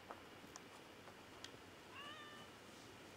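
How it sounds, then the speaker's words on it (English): A cat meows once, a short faint cry amid quiet background noise with a few soft clicks, heard alone. "that's a cat?"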